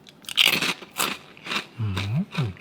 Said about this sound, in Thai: เสียงแคปหมูแบบฟูกรอบดีมากลองชิมดูหน่อยครับ